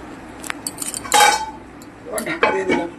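A metal lid set onto a cooking pot holding fish curry with eggplant, giving two short clattering clinks of metal against metal, close by, with a voice speaking around them.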